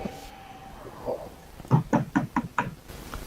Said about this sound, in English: Knock for me.